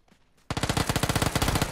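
Video game gunfire in a single sustained automatic burst of rapid, evenly spaced shots, loud and close, bursting in abruptly after a near-silent moment, with no talking.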